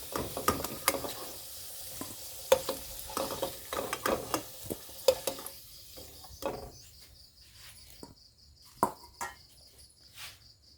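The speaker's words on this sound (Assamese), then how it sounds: "আৰু এতিয়া এড কৰিছোঁ সৰিয়হ তেল, শুকান জলকীয়া পূৰণ দি দিছোঁ এটা, গোটা জিৰা পূৰণ দি দিছোঁ আধা চামুচ" Dried red chilli and whole cumin crackle and sizzle in hot mustard oil, with quiet sharp pops and stirring scrapes that thin out toward the end.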